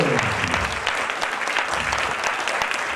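An audience at a live Mother's Day magic show claps steadily, a dense, even round of applause that carries on without a break and without voices standing out.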